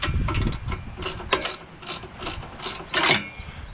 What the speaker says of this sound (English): Now what you're going to want to do is your 14mm wrench and ratchet.